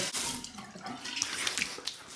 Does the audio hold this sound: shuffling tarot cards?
no